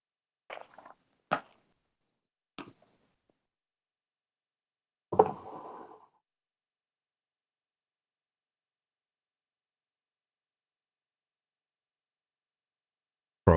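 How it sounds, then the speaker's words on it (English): Someone knocks at a front door: a few sharp, isolated raps spaced out over several seconds, separated by near silence. "Someone's at my front door."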